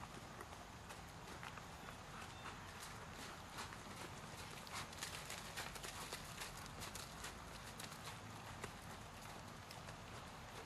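A horse trots in an arena during a jumping lesson, its hooves beating a steady, continuous clip-clop at a moderate distance beneath a constant hiss of background noise.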